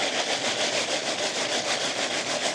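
A gold trap filled to the brim with paydirt of sand, dirt and small rocks is shaken, giving a steady, loud gritty rasping and rubbing that runs continuously without pause, with no talk over it.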